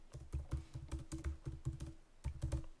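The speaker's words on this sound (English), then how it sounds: "And I'll type in the first one." Fast clattering keystrokes on a computer keyboard come in quick bursts with short pauses, close and fairly quiet, with no voices.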